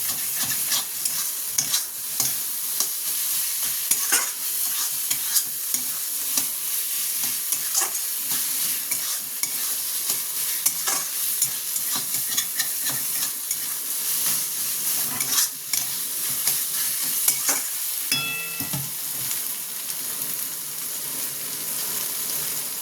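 Momo filling frying in a pan, a continuous close sizzle broken by frequent scrapes and clicks of stirring, with a brief louder clatter near the end.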